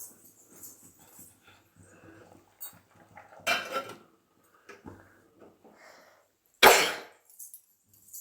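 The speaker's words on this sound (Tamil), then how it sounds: "நான் ஒரு 3 முட்டையை மட்டும் இதில் சேர்த்துக்க போகிறேன். சும்மா உடச்சி ஊற்றிட்டு அப்படி திருப்பி விட்டுக்க வேண்டியது" Eggs cracked into a pan of masala for an egg gravy and stirred in a kitchen, with soft clinks and scrapes of utensils on the pan and one sharp loud clatter near the end.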